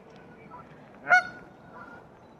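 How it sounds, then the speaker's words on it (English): A Canada goose at Leybourne Lakes gives one loud, clear honk, close and alone over quiet background. "It is a Canadian goose"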